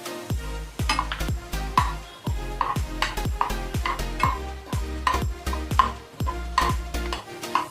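Spoon stirring a thick kalakand mixture with milk powder in a pan, a steady rhythmic scrape-and-knock repeating about twice a second, close and clear, with no talking.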